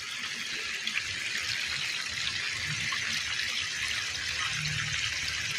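Mountain water runs through a gap in the soil and pours into a drainage hole, a steady, moderately faint rushing flow that lasts throughout, with a brief spoken word near the start.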